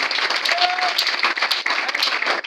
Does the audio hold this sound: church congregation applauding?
yes